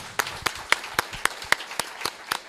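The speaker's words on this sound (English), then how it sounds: "Let's give everybody a nice round of applause for a great performance" A handful of people clap sparsely after a board of directors election candidates' Q&A: about nine distinct, evenly spaced claps over a couple of seconds, fairly quiet and with no voices over them.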